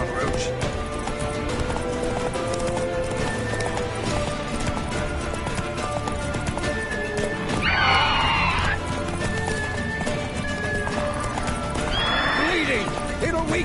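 The horse Roach in The Witcher 3 video game gallops with steady hoofbeats and neighs twice, clearly and close, while game voices and background sounds continue.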